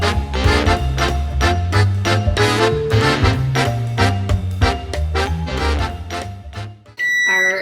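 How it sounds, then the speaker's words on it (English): Music plays steadily, then cuts off as a kitchen timer beeps briefly in high electronic tones at the end. "when the timer goes off in 2 minutes, I'll be done."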